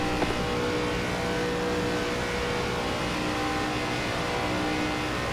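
ARCA Menards Series stock cars racing at Daytona in iRacing, a continuous droning engine roar with steady harmonic whine, loud and sustained, no voices.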